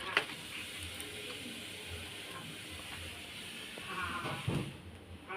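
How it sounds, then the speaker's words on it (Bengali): Mustard, tomato and green chili paste hits a hot pan with black cumin, raising a soft, steady sizzle and hiss that swells briefly near the end, faint and close with no talking. "এই যে সর্ষে টমেটো কাঁচা লঙ্কা পেস্ট এটাও ঢেলে দেব"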